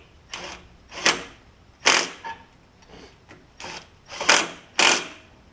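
A ratchet with a deep well 5/16 socket tightens a carburetor on a Briggs engine of a Craftsman lawn tractor, making seven close, sharp bursts of clicking at an uneven pace.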